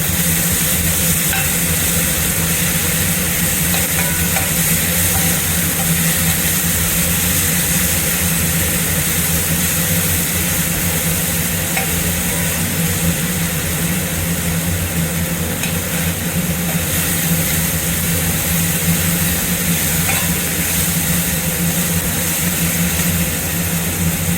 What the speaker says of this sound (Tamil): இஞ்சி பூண்டு பேஸ்ட் நம்மளோட கடாயில் ஒட்டாமல் நல்லாவும் வரும் நல்லா கொஞ்சம் வதக்கிக்கலாம்